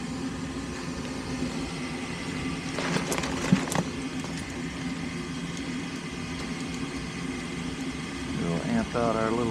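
Induction fan motor on an Air Temp furnace with a faulty fan, running as a steady broadband hum with a faint whirr throughout, a brief clatter near the middle, and a voice speaking near the end.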